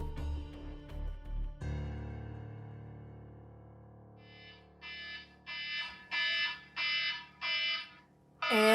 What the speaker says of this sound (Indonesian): ini alarm udah bunyi masih belum bangun